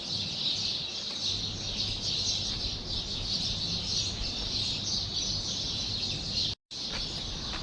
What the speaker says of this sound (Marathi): चिमण्यांचा आवाज येते